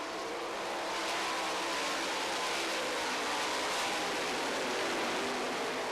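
Race cars circle the track at the Knoxville Nationals late in a race, heard as a steady, distant wash of engine roar blending into broadband noise, with no talk.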